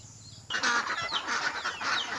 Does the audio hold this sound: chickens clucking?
yes